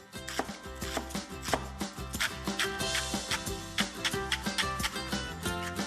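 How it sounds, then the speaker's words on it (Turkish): Rapid, steady knife chops through spring onions on a cutting board, a brisk rhythmic tapping that continues throughout, close and fairly loud. "hem yeşil kısmını hem de beyaz kısmını bir araya getirerek doğramaya başlıyorum"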